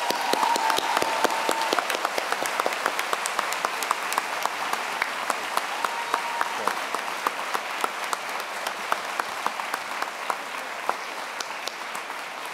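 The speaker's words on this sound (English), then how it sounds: "Please join me in a round of applause" At a Penn Foster graduation ceremony, a crowd gives sustained applause, a steady crackle of many hands with sharp individual claps standing out, continuing evenly for the full stretch without talk.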